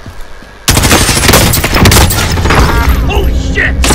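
Automatic gunfire in Call of Duty: Warzone, a sudden loud sustained burst of rapid shots breaking in after a brief quiet moment and continuing close and heavy with booming impacts and game sounds.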